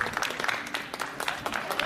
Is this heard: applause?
yes